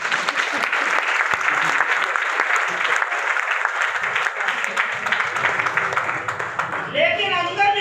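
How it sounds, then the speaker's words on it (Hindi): A seminar audience gives a steady, loud burst of applause that fills the room. A voice begins speaking over the last moments. "तालियां बता भैया के लिए।"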